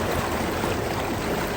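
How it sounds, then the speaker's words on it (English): Floodwater rushing along a road in Gambia, a loud, steady broadband wash of flowing water with no breaks. "Wow, that's a nice flow of water."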